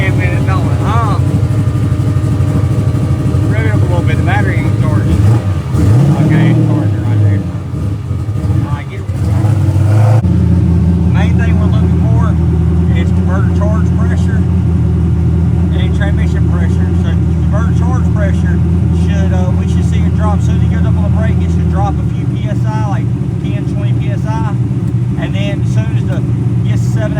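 A boosted bus engine with a nitrous setup idles loudly up close, then dips and is revved briefly before settling back into a heavy steady rumble, with people talking over it throughout.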